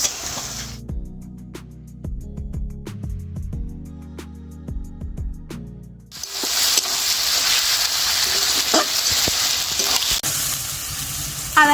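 Ginger, garlic, onion and green chillies fry together in a pan for a Bengali mutton curry, settling into a loud, steady hissing sizzle after a quieter opening with tonal notes.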